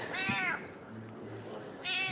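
A cat in France meows near a duck terrine: two clear, close, drawn-out meows, one at the start and one at the end, with quiet background shuffling between them.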